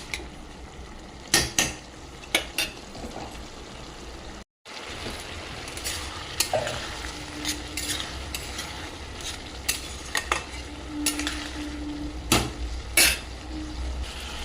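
Ridge gourd and prawns fry in a pan with tomatoes and green chillies, a continuous soft sizzle broken by sharp clanks and scrapes of a spatula stirring against the metal.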